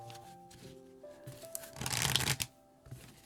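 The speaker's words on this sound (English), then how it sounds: "we'll give this one more shuffle for you, Edison." A deck of tarot cards is shuffled close by, with a burst of riffling and flicking in the middle over a soft musical background, then quieter card handling.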